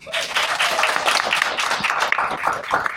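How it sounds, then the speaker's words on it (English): Guests applaud a bartender at a cocktail class in a cruise ship's Test Kitchen, a steady wash of many hands clapping close by for about three seconds. "Can we give a huge round of applause in the back for Alina?"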